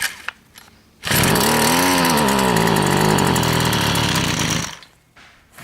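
A petrol whipper snipper engine catches and revs loudly for about four seconds, its buzzing pitch rising and wavering, then cuts back and dies away. Quieter handling sounds come before and after.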